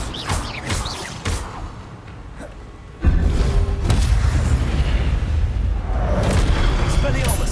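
A fire spell from the Hogwarts Legacy video game bursts in with a sudden loud whoosh about three seconds in, then roars steadily as sustained crackling flame under battle effects, with game combat sounds and a voice before it.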